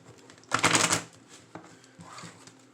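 Tarot cards being shuffled in a riffling burst of dense papery flutter, followed by a few lighter taps and slides of the deck, close and fairly quiet with no talking.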